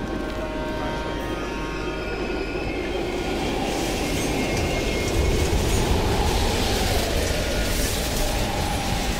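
A train rolls past in a Cold War video game set at an abandoned East German station, a loud, continuous rumble of wagons with clattering wheels and faint squeal, no speech.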